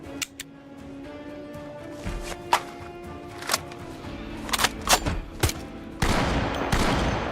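Gunshots in the zombie survival game Project Zomboid, fired at zombies on the other side of a fence: a scattered series of sharp, separate cracks of varying loudness over a quiet background, ending in a louder, denser stretch of noise.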